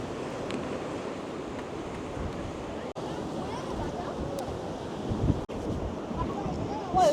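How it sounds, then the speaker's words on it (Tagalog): Strong wind sweeping a coastal lookout in Busan on a cool, foggy day, a steady loud roar buffeting the microphone with surf-like rumble throughout, broken by two brief dropouts. "Super hangin."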